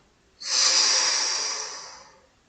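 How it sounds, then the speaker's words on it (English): A single slow, deep breath drawn in and let out, soft and airy, close to the listener, rising and fading over about two seconds with no voice. "Deep breath in and out."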